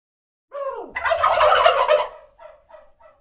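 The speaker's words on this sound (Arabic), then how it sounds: "ديك رومي." A turkey gobbles close and loud, a rising call leading into a long rattling gobble, followed by three fainter short gobbles trailing off.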